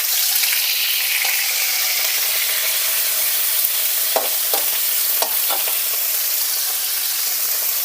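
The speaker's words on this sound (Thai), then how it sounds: "คนแห้งๆนะเพราะมันติดกระทะ" Steady hot sizzle of vegetable fern stir-frying in a wok, with a few sharp spatula scrapes near the middle, close up and without speech.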